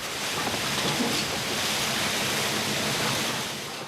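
Rough Antarctic sea waves crash and churn around a krill fishing boat during net casting, a steady, loud roar of broadband surf noise with no voices.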